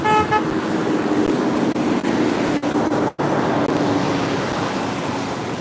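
A truck passes close by on a road beside the sea, its horn tooting briefly at the start over steady traffic rumble and surf-like wash.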